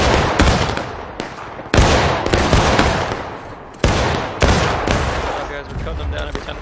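Musket volleys in the American Civil War game War of Rights: loud, sharp shots crack out one after another, some close and heavy, over a constant rolling rattle of distant fire.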